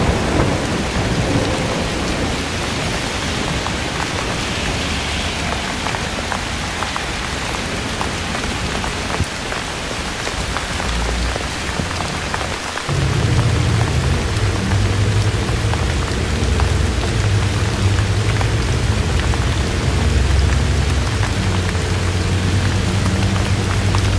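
Heavy rain pours steadily across a surface in Ridgewood, New York, a dense constant hiss, while deep rumbles of thunder roll beneath it and swell partway through.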